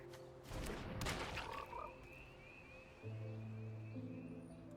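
Playing the Psychic Frog card in MTG Arena sets off a synthetic frog croak effect, a low, resonant croak preceded by a burst of magical whooshing game sounds, moderately loud with no speech.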